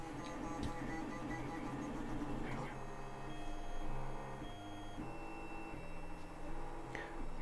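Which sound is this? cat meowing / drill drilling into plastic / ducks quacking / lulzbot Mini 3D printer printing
lulzbot Mini 3D printer printing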